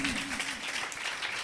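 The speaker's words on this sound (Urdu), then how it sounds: "یسوع مسیح کے لیے زوردار تالیاں بجائیں" A church congregation gives a burst of applause during a sermon, a wash of clapping heard together with a brief voice at the start.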